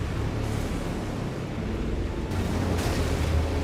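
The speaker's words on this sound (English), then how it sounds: "it's literally impossible to avoid that explosion" Explosion in the video game Elden Ring, a dense continuous rumbling roar with heavy low-end that holds steady and swells slightly near the end, with no speech.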